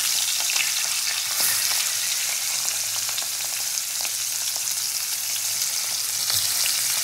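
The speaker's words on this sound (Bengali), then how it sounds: "তো তেলটা তো আমার গরম হয়ে গেছে, এবার মাছগুলো আমি একে একে ছেড়ে দেবো।" Tangra fish fry in hot oil, a loud, close, continuous sizzle with crackling spatter that holds steady throughout and no voices.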